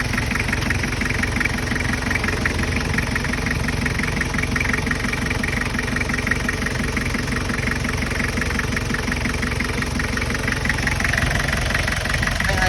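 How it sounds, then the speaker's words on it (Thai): A Toyota Mighty pickup engine idling smoothly, a steady close mechanical rumble with an even rhythmic pulse and no change in loudness, running alone with no voices. "เครื่องนิ่มเลยนะครับไม่ไอ"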